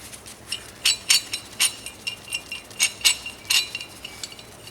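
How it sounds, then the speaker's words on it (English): Steel spring compressors clink and tap in irregular bursts while fitted to the rear shock spring of a 2004 Subaru Impreza GX, bright metallic ticks close by over a faint hiss, with no talking. "get some of these spring compressors and use these to obviously compress the spring"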